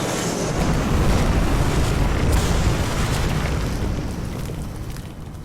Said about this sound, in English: I'll take that as a yes, we are about to get bombed.